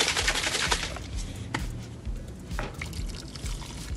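Water and salt are poured into a bowl of soup being made in a microwave, with onion cream mix and green corn, giving a soft, wet trickle and a few small splashes and drips, close and fairly quiet.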